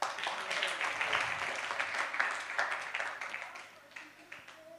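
Audience at a prophetic conference in Jászberény claps together in a fairly soft, sustained round that swells early and gradually thins out toward the end.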